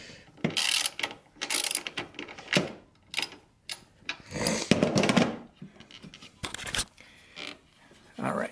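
A ratchet works a nut loose from the slotted strut tower of a Mini Cooper, giving close, bursty clicking runs in uneven spurts with short pauses between them.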